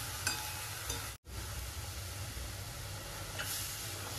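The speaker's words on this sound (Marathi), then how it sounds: "आता मेथीला छान परतून घेऊन शिजवून देऊया" Fenugreek leaves sautéing in a pan for methi bhaji, a steady close sizzle with scraping stirs throughout, cut by a split-second silent gap near the start, no voices.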